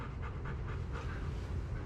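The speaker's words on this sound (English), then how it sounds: "Sorry if you can hear Millie panting in the background." A dog pants steadily and rhythmically in the background of a room, a soft continuous breathy sound with no talk over it.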